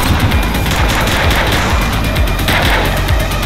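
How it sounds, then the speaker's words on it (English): Sustained gunfire from a police shootout in The Precinct video game, with dense overlapping shots and booms forming a loud, continuous barrage with no pauses. "Shots fired!"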